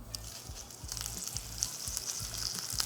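Fish seared skin side down on parchment paper in a pan gives a steady, close crackling sizzle with soft pops and no talk.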